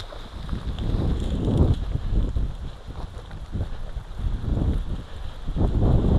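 Wind gusts through the woods, buffeting loudly in swelling and fading surges with rough low rumbling, and no voices.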